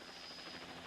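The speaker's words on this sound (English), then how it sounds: "I hear a helicopter" A helicopter drones steadily overhead with a continuous whirring hum, fairly faint and distant, with no other sounds alongside it.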